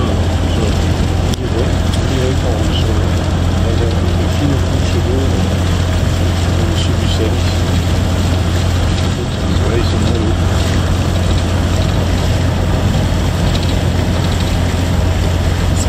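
A Toyota drives through water up to the wheel hubs on the flooded Uyuni salt flat in Bolivia, with a loud, continuous engine rumble and the rush of splashing water, and voices talking over it.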